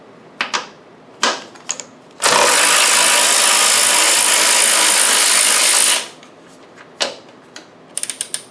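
An impact or ratchet tool spins off the 12 mm top strut nuts on a 2001 Lexus IS300 front suspension, a loud steady buzz lasting about four seconds, with scattered metallic clicks and clatter before and after.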